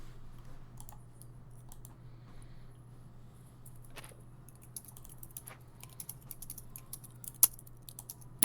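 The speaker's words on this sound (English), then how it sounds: "I hear typing" Typing on a computer keyboard, quiet irregular key taps and clicks over a faint steady electrical hum, with a few sharper louder strikes toward the end.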